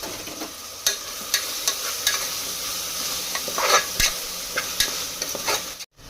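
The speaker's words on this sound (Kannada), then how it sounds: "ಪುಡಿ ಹಾಕಿ ಇವಾಗ ಮತ್ತೊಂದು ಸಲ ಮಿಕ್ಸ್ ಮಾಡ್ಕೊಳ್ಳೋಣ್ರಿ" Curry in a pan being mixed after turmeric powder goes in, a spoon scraping and clinking repeatedly over a constant hiss of frying, close by and without speech.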